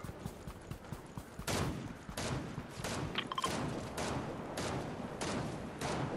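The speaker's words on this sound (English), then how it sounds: "Somebody's still shooting." Repeated gunshots in Fortnite crack out in irregular bursts, some sharp and fairly close, others duller and more distant, spread across the whole stretch with no talk.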